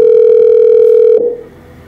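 A steady telephone ringback tone holds for over a second, loud and continuous, then cuts off abruptly into faint background noise.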